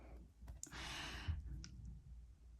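Tarot cards shuffled by hand for a pick-a-card love reading, a brief dense riffling burst lasting about a second amid quiet room tone, with a couple of small clicks around it.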